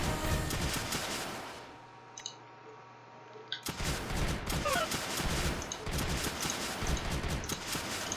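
Launchers fire on Creeper in Creeper World 2 as a steady run of quick clicking shots and popping bursts, briefly dropping away before resuming densely, with game sounds behind.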